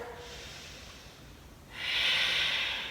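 Deep breaths in a vinyasa yoga class, first a soft exhale, then a louder, rushing full inhale or exhale close to the microphone, with no talking.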